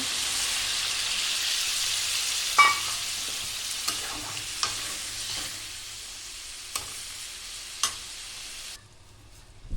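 Duck meat braises and gets stirred in a pan, a moderate sizzle under sharp periodic clacks of a spoon against the pan, cutting off abruptly to near quiet at the end.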